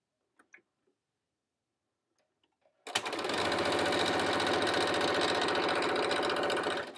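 A sewing machine stitching a knit button-front blouse starts after a few faint handling taps and then runs in a loud, steady, rapid mechanical whir close by.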